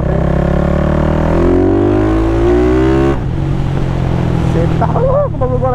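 Remapped Honda Start 470cc motorcycle engine revving hard and close, its pitch climbing steadily before dropping to a lower steady drone, with a voice briefly heard near the end.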